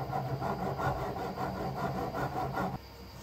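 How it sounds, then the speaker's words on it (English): A greased 3D printer carriage slides back and forth along its linear rail, giving a close, soft, rhythmic rubbing hiss that rises and falls with each stroke and then drops away near the end. "just move your carriage back and forth until you are satisfied with the movement"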